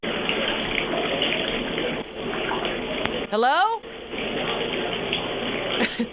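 Shower water runs in a steady, loud rush heard over a phone line, broken briefly by a warbling tone, while a voice speaks over it.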